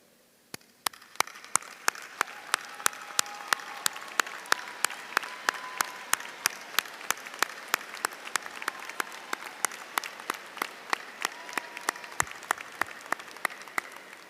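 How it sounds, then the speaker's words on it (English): A commencement audience at a university graduation applauds graduates' families and friends, scattered sharp claps building into sustained clapping from a large hall crowd, fairly distant and soft. "will you please stand and receive our grateful applause?"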